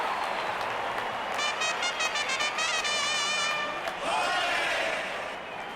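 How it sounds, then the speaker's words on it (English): Cricket stadium crowd cheering and applauding during a KKR vs GT match, a broad roar of massed noise with bursts of whistling horns, steady and far-off, while a commentator speaks over it. "The crowd is enjoying every bit of this action."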